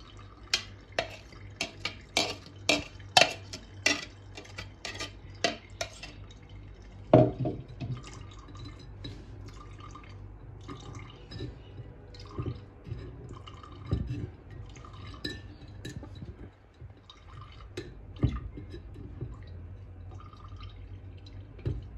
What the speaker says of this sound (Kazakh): Яғни менде осындай графинге сүземін.